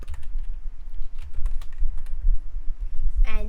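Keys tapping on a computer keyboard while code for a Python CustomTkinter login GUI is entered, with a scattered run of soft clicks over low room hum and a brief tonal beep near the end.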